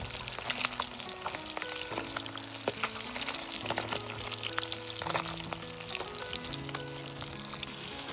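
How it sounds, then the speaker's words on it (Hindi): Fish pieces fry in hot oil in a pan during an outdoor village cooking session, with a steady dense sizzle and crackle running throughout, close and fairly loud, with no voices. "ये देखिए मछलियाँ फ्राई हो रहे हैं।"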